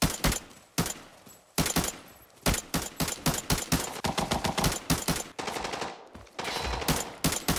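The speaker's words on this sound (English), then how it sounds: "UMP 45. Good time to test this gun out." UMP 45 submachine gun fire in the mobile shooter Arena Breakout: loud, close bursts of rapid shots separated by short pauses, with sharp repeated cracks and no talk.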